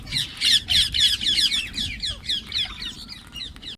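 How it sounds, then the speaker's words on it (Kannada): Parrots in an aviary at Wonder Planet in Karnataka squawk and chirp in a rapid run of harsh, repeated calls. They are close and fairly loud over a low background murmur, fading slightly toward the end. "ವಂಡರ್ ಪ್ಲಾನೆಟ್ ಒಳಗೆ ಕಾಲಿಡುತ್ತಿದ್ದಂತೆ ಪಕ್ಷಿಗಳ ಚಿಲಿಪಿಲಿಯ ಸದ್ದು ಕಿವಿಗೆ ಇಂಪು ನೀಡುತ್ತದೆ."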